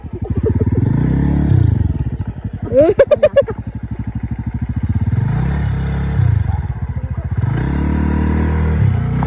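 A motorcycle engine idles and revs up and down nearby on a very slippery road, its low putter rising in repeated surges, with voices talking over it.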